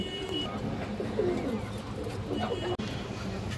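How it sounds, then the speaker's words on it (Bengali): A pair of sabji pigeons with short boot-like beaks coo in a low, soft, repeated murmur close by, with a continuous rumble of background noise underneath. "পুরোনো ব্র্যান্ডের একজোড়া সবজি কবুতর আছে বুট ঠোঁটের"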